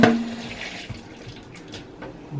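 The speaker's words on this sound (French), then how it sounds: "Je vais juste rincer ce verre" Kitchen tap water runs steadily as a glass is rinsed under it, a close, continuous splashing rush with no talking.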